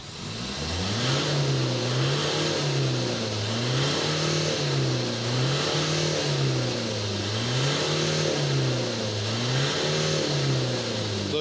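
A Ford Ranger diesel engine, just given an injector recalibration and blowing black exhaust smoke, revs up and down in a steady repeating rhythm, loud and close, with no voices.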